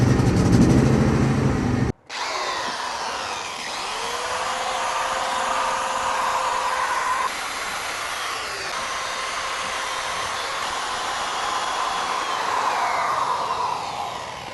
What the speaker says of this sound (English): I've used the metal wire wheel brush the best I could to get most of this down